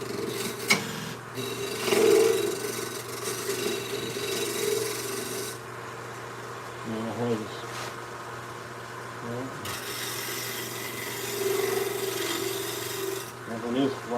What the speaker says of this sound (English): Little shear cut. A scraper cut.